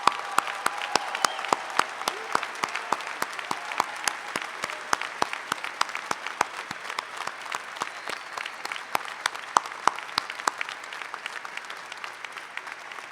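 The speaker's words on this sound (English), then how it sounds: "let's take a moment to give them an applause" A large commencement audience applauds graduating veterans, a long spell of scattered, sharp claps from many people in a big reverberant hall, holding steady throughout.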